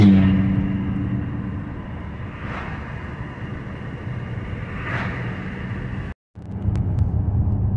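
A neglected Cadillac drives along the road with a steady low engine and road rumble heard from inside, a couple of faint swells and a brief dropout near the end, with no talking.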